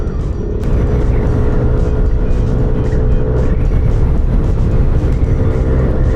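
A scooter engine revving hard under throttle, loud and close, a steady droning roar that holds for several seconds with no talk over it.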